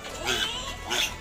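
Piglet on its second day, being tended up close, giving two short, shrill oinking squeals about a second apart, with a low rumble underneath.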